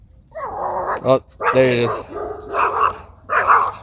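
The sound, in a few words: dogs barking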